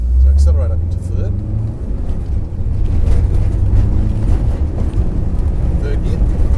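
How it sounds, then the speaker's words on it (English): A Subaru WRX STI rally car pulls hard up into third gear on a rally school course, heard from inside as a loud engine drone under an instructor's and driver's steady talk, with a gearshift dip early on. "So accelerate up into third."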